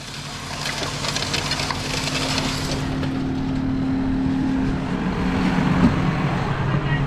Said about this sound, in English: You can shut the tractor right off.